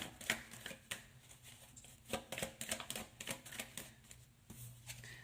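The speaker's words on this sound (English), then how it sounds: "Give them a good shuffle here." A deck of tarot cards riffled and shuffled close by, a run of quick papery flutters and soft taps with brief pauses between bursts.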